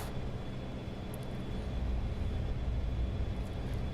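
A Boeing 727 jet in the X-Plane 11 flight simulator on its takeoff roll down the runway, steady rumbling engine and rolling noise growing slightly louder, with no voices.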